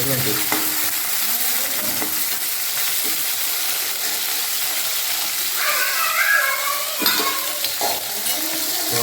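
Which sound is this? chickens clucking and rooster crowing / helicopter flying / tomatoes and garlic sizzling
tomatoes and garlic sizzling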